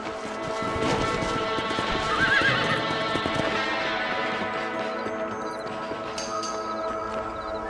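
Horses in the Red Dead Redemption video game, a loud close whinny followed by steady clip-clopping hooves and tack noise, fading slightly toward the end, with no talking over it.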